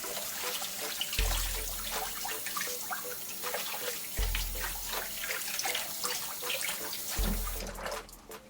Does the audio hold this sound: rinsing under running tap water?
yes